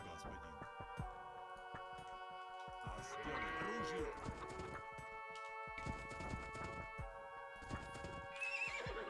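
Horses neigh and whinny in the Age of Empires 2 video game. Clip-clop hooves and other unit sounds play over a steady game soundscape, with a loud whinny in the middle and quieter calls later.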